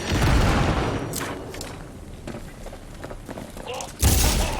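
Gunfire in a Cyberpunk 2077 combat fight, a dense rattling fusillade at the start that thins into scattered shots and thuds, then a heavy boom near the end.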